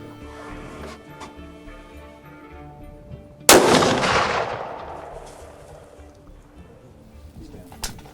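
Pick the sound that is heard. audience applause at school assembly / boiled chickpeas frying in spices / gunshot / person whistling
gunshot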